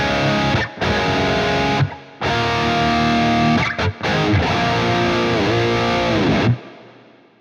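Distorted electric guitar played through an Archetype Petrucci X amp plugin with reverb and its low end rolled off by a high-pass filter; loud, clear chords and sustained notes separated by brief silences, ending in a fading reverb tail.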